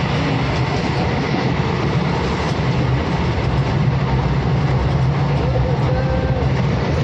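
A passenger train runs on rails, a loud, close, continuous rumble with rhythmic clickety-clack from the wheels throughout.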